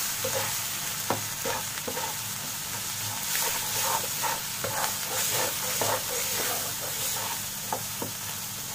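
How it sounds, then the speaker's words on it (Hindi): Dry ground spices roast in a pan for an aloo keema masala, giving a steady close sizzle and hiss. A spoon scrapes and clicks in an uneven rhythm throughout, and no voice is heard. "एक दो मिनट हम ड्राई मसाले डालने के बाद भून लेंगे अच्छे से"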